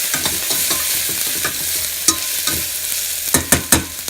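Spices sizzle and fry in hot oil for brinjal pulav while a spoon stirs them, with close scraping strokes and a few sharp clinks against the pan.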